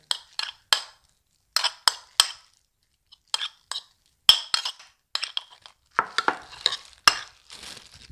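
A spoon stirs avocado oil and mayonnaise in a bowl for avocado salmon fried tofu sushi, giving bursts of clinking, scraping strokes separated by short pauses, close and clear with no speech.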